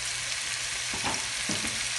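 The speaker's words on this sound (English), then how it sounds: "Can you hear the sizzle?" Steady, loud sizzling of vegetables and garlic stir-frying for a Thai sweet and sour dish in a hot pan, a continuous crackling hiss with a couple of soft stirring scrapes.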